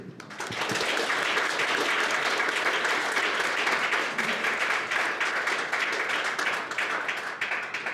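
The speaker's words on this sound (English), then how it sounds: "Let's give Professor Armitage a great round of applause, please." A lecture audience breaks into sustained applause for a visiting professor after a speech on treaties, dense clapping starting abruptly and holding loud and steady for several seconds before thinning slightly at the end.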